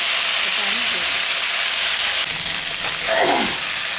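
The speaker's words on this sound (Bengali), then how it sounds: "তরকারিটা ভাজা ভাজা হয়ে গেছে এখন আমি মশলা দেব" Ginger, cumin, green and dried chillies hit frying vegetables for a fish curry, a loud close hiss and sizzle that swells midway, with a brief stir scrape near the end.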